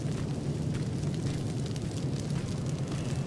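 Grenade blast in the video game Terminator: Resistance, a dense low rumbling roar that holds steady at moderate loudness without a sharp onset, with no voices over it.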